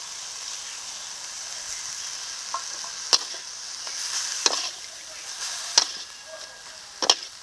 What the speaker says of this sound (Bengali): ভাজা মাছটা এখন দিয়ে দিচ্ছি